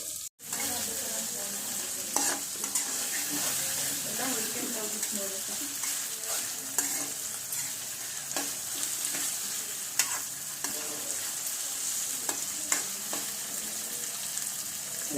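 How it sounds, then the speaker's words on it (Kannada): Onions frying in a little oil, being stirred with steady scraping strokes over a continuous close sizzle, with occasional sharper knocks of the spoon against the pan. "ಇದಿಷ್ಟು ಸ್ವಲ್ಪ ಎಣ್ಣೆಯಲ್ಲಿ ಬೇಯಬೇಕು"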